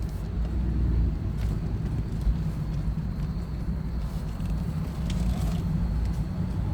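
Steady low engine rumble from a car with paddle shifters as it is put into drive and rolls along, a continuous close hum with no talk.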